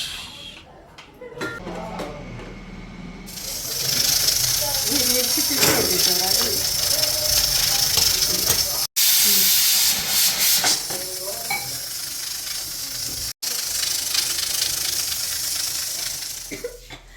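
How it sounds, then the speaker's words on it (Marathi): A pressure cooker with country chicken inside vents steam through its whistle in a loud, sustained hiss that starts after a few seconds. The hiss runs for over ten seconds, broken by two brief cuts. "आता पाच शिट्ट्यांचा आवाज ऐकूया आपण फुसफास"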